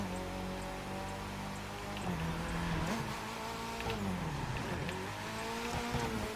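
Mitsubishi Evo X rally car engine in the video game The Crew 2, droning loudly and steadily throughout, its pitch dipping and climbing as the car shifts and revs, with tire noise beneath.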